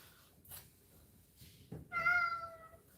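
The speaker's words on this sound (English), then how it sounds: "Do you hear how mournful that bullshit meow is?" A house cat lets out a drawn-out, mournful meow near the end, preceded by faint rustles and a short thump in a quiet indoor room.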